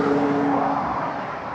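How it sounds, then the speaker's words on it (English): A McLaren 720S sports car makes a flyby at a race track. A loud, roaring engine note sweeps past, with its pitch falling slightly as it fades over the short clip. "as we get a flyby from a McLaren"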